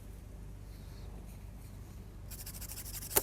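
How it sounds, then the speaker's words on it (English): A pencil rubs against a Derwent sandpaper block, a faint, close, scratchy scraping that turns into quicker, brighter strokes near the end, finishing with a small tap. "start creating some dust by rubbing it against the sandpaper"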